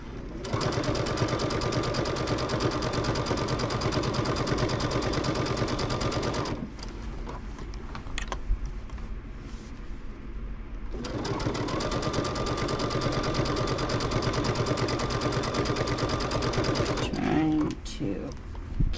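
Sewing machine stitching binding onto the edge of a baby quilt, running in two long steady bursts with a pause between, close and loud, with faint handling noise during the break.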